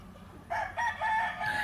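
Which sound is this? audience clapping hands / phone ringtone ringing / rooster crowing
rooster crowing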